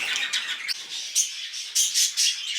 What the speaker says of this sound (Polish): No idziemy, zobaczymy właśnie te nasze papugi.